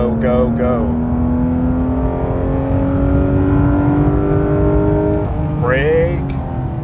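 A car engine revs and accelerates on a winding Smoky Mountains road, its tone climbing steadily in pitch as it builds, loud and close, then easing briefly before rising again near the end.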